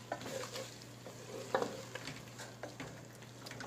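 Tomato and green chili masala being stirred in a pan, soft scraping and gentle sizzle with intermittent spoon taps, quiet and close, no talking.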